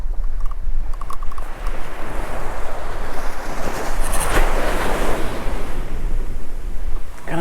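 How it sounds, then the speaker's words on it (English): A strong wind roars steadily against the microphone over crashing surf at a fishing spot, loud and unbroken with no talking. "It's mega windy out there."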